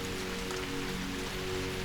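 Rain taps on a crystal-clear domed glass skylight, a dense, steady patter, close and even throughout, no talk.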